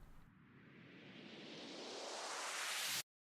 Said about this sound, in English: it's a sub-impact, and then this is a riser.